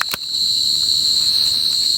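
Crickets chirp in a loud, steady, high-pitched trill close by, with a brief click at the start.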